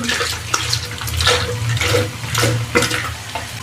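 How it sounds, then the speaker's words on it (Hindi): Milk pours in a steady stream into a blender, a soft continuous splashing gurgle with a few sharper drips near the end. "ब्लेंडर में सबसे पहले दूध ऐड कर देंगे"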